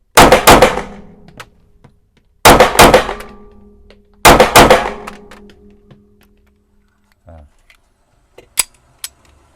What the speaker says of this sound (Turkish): Evet şimdi biraz bir kontrollü double atalım.